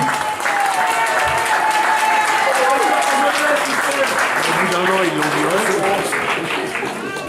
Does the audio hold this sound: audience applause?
yes